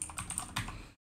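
Rapid keystrokes on a computer keyboard while a name is entered into a Mendeley account sign-up form, a short close burst of clicky taps that stops abruptly.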